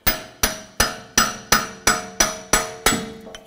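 Nine sharp, evenly spaced hammer blows drive a punch against Jeep Grand Cherokee rear axle pins, each metallic strike ringing briefly and close, with no voices.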